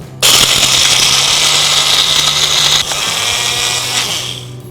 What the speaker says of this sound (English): Now let's grind these to a nice smooth powder.